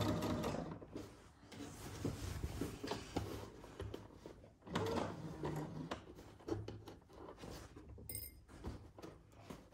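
Sewing machine stitches steadily at low volume, with soft mechanical whirring and fabric handling throughout and brief pauses.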